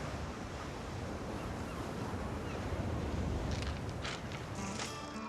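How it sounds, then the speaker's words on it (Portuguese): Ocean waves at low tide wash steadily against the shore with a dense, continuous roar, joined by a few brighter splashes toward the end; no voices. "fiquei um tempinho ouvindo as ondas batendo"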